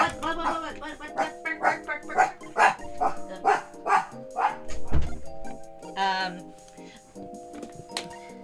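A dog barks repeatedly to be let out, a rapid series of sharp nearby barks followed by a few whiny yips, with music playing underneath.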